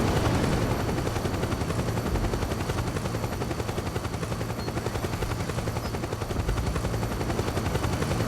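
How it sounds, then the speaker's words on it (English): A helicopter hovering overhead in the video game Metal Gear Solid 4, a loud, dense, continuous rotor thudding that stays steady throughout, with no talk. "I think the chopper is literally right over my head."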